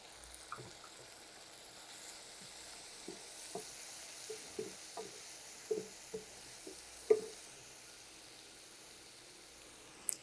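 Spice masala frying in a pan while cooking an egg dish, with soft, scattered sizzling pops and faint stirring scrapes over a low, steady background hiss.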